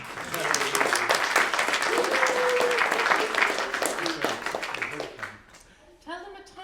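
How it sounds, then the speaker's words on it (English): A library audience applauds a performer at a singing event, a dense burst of clapping mixed with cheers and voices that fades out, followed by a brief snatch of speech. "Can I ask for a big round of applause for Niall Lacey?"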